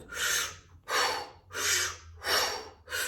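Heavy mouth breathing during a guided breathing exercise, five strong inhale-exhale bursts in a steady rhythm, close and loud with no talking.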